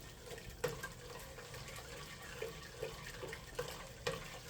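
Water runs from a tap while a spoon is rinsed during collard greens cooking, a low steady trickle broken by several light knocks and clinks at irregular intervals.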